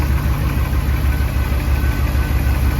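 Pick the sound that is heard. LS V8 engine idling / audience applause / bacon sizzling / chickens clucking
LS V8 engine idling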